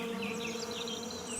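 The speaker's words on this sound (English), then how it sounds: "Fly." A single fly buzzing close by in a steady, continuous drone that hums without a break for about a second and a half.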